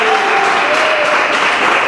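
A church congregation clapping hands loudly for Jesus during a service, a dense, continuous wash of applause filling the room.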